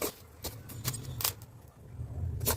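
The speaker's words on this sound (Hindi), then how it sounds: "साबूदाना डालते ही इसमें पॉपअप होने की साउंड आएगी" Sago pearls (sabudana) popping as they dry-roast in a pan: scattered sharp crackles at an uneven pace, fairly close, over a low steady rumble of background noise.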